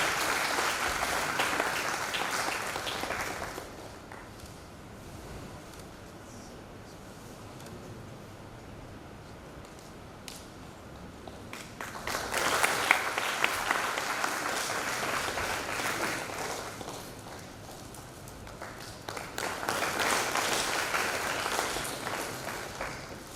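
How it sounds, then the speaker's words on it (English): A conference audience breaks into applause in three separate bursts of steady clapping, with quieter room tone in between. "Let us all receive Professor Vinayak Deshpande with a huge round of applause"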